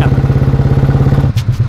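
An old engine on a new motorcycle idles close and loud with a rapid, regular thumping putter, then cuts off abruptly and leaves a few faint clatters.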